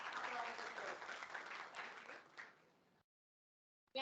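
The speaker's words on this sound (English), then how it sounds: "let us have a very big round of applause for such overwhelming response from all the participants around the globe" Audience applause at a conference inauguration ceremony, a steady broad wash of clapping that fades out after about three seconds, followed by near silence.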